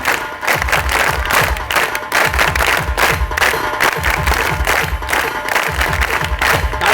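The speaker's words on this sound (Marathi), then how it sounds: "जोरदार टाळ्या या सत्कारासाठी वाजू आपण आपल्याला विनंती." Sustained applause and cheering from a large audience at a felicitation event for a film actor during a movie promotion ceremony, steady dense clapping with crowd noise throughout, loud and close.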